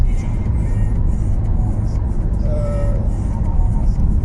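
A car cruising at night on a well-lit highway between Moscow and Saint Petersburg: steady interior road rumble and tire noise that stays constant, with a faint passing whine partway through.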